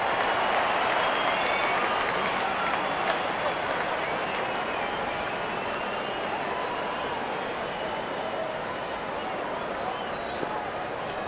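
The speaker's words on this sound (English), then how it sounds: "The crowd is enjoying every bit of this action." A stadium crowd at a Pakistan versus India cricket Test in London applauds, producing a broad, steady wash of clapping and cheering that holds at a moderate level throughout without clear breaks.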